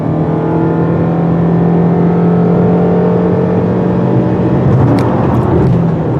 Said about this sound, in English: So let's hit the gas and see what happens.